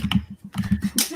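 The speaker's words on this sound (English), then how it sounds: "keyboard's really loud" A loud computer keyboard clacks in quick, uneven bursts of close, sharp keystrokes, with brief pauses between bursts and no voices.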